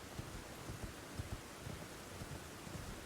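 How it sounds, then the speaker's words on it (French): Steady rain falling at night in a Lord of the Rings video game, a dense even hiss with soft low rumbles and occasional faint thumps throughout, no voices. "Bon, il fait nuit, il pleut."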